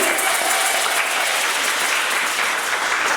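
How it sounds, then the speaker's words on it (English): Crowd at an indigenous festival in Trinidad and Tobago gives a steady, dense round of applause, loud and continuous throughout with no speech over it. "Let's have a round of applause, please."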